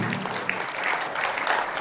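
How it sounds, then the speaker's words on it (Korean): Meeting attendees clap to adopt the draft articles of association at the founding convention of the Gyeongbuk labour human rights centre, a steady round of applause from a modest indoor crowd. "그럼 박수로 채택하겠습니다."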